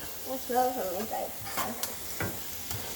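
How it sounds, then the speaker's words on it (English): Shrimp frying in a pan for Ghana-style fried rice, a steady close sizzle with stirring scrapes and a few sharp clicks, while a voice talks briefly over the start. "I'm going to fry it for 3 minutes. My shrimp is making the whole house smell very good."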